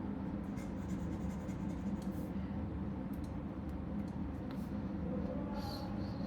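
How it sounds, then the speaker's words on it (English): Handwriting during a math lecture: a pen scratches and taps across a surface in short, quick strokes, close and clear over a low background hum. "I will write it somewhere."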